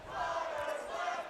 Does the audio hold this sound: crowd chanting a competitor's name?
yes